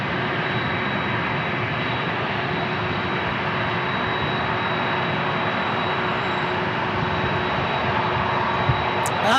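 An airplane engine at San Diego International Airport runs before takeoff, a steady, loud broadband roar with a constant whine, unbroken for the whole stretch.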